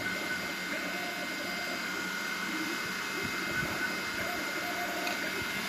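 A 3D printer hums and whirs steadily with faint tonal motor whines and small clicks, continuous and close, with no talking.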